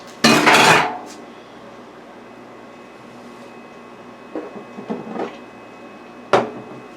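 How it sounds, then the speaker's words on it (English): A loud metallic clatter of a frying pan being set down on a stove, followed by a few quieter knocks and a final sharp clank against a faint room hum. "I brought my frying pan here. This is what we're going to be frying in."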